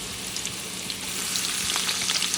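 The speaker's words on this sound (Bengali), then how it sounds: "বসিয়ে দিলাম কড়াইতে আমি তেল দিয়ে দিলাম এখন রসুন দিয়ে দেবো" Garlic frying in hot oil in a kadai, destined for a bottle gourd leaf dish, gives a close, continuous sizzle scattered with small crackles and pops that grow slightly louder toward the end.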